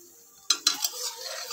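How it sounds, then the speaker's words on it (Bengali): Butter and a little oil fry in a wok for pav bhaji: a few sharp clanks of a spoon against the pan, followed by a soft, continuous sizzle. "এটা ভাজা ভাজা হচ্ছে"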